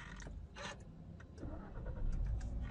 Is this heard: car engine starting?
yes